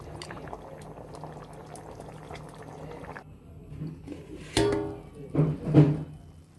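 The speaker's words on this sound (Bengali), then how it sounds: "আমাদের বিরিয়ানিটা প্রায় অর্ধেক ফুটে গিয়েছে" Chicken biryani made with homemade spices simmers in a pot. A low bubbling hiss runs steadily, then thicker, louder gurgling bursts rise near the end, heard up close.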